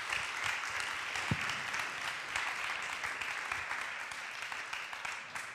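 An audience at a dance performance event applauds for the music composer, steady clapping that holds fairly evenly throughout at a moderate distance with no speech over it.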